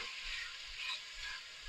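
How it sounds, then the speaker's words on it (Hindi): Chicken pieces for aloo gosht fry quietly in a pan, a soft continuous sizzle with faint stirring scrapes, heard up close and alone. "इसको हम तकरीबन अब 5 से 7 मिनट अच्छे से फ्राई करेंगे।"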